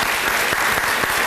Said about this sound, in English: I would encourage you to give him another round of applause for his leadership.